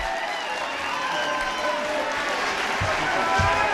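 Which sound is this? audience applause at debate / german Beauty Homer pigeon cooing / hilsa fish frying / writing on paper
audience applause at debate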